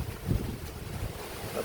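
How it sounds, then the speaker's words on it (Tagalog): Strong wind rushing across an outdoor spot, a steady broadband blustery roar close to the microphone with no voices. "Malakas ang hangin."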